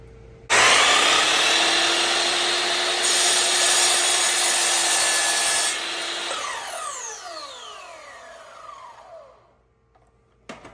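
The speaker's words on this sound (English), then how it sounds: "we scuffed the area where we're going to epoxy the braces" A power tool scuffs the surface of an Audi where saddle bag braces will be epoxied. It starts abruptly with a loud, steady grinding whir, then winds down as the motor's pitch falls away into quiet.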